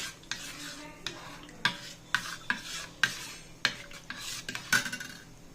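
A spoon stirring pear and pomegranate juice in a glass or jug, giving faint, regular clinks and taps against the side, about a dozen light strikes spread across the clip with no talk.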